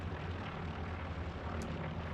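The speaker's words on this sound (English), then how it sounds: "there's a recon plane from PG60." A recon plane in the World War II shooter Hell Let Loose drones steadily overhead, a low, distant engine hum holding constant and fairly faint for the whole stretch.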